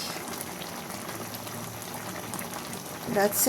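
Pot of bean, vegetable and fish soup bubbling on the heat, a soft, steady boil with a short burst of clinking near the end and a brief voice speaking over it.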